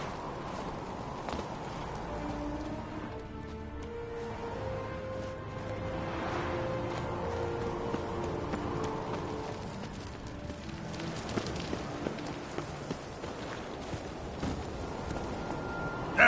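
Roach the horse trotting in The Witcher 3, soft hoofbeats moving at a moderate pace beneath a steady ambient bed, with no clear talking over them.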